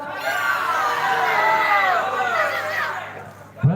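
A crowd of spectators at a school quiz competition in Aceh erupts in loud, sustained shouting and cheering, with children's voices prominent, the roar holding steady before tapering off near the end.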